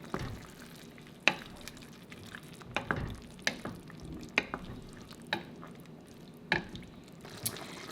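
A spoon stirs Worcestershire sauce into beef stew in a hot pot, with soft scraping strokes and sharp knocks against the pan over a low sizzle, close and fairly quiet.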